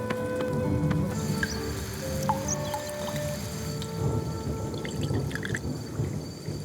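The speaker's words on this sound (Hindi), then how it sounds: "ई पानी का बूंद ह" Water drops drip steadily as they are collected to make medicine for patients, a scattered patter of small, close droplets over a low background hum, with no talking.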